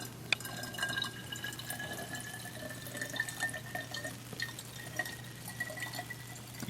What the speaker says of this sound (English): You're just filling up water all the way?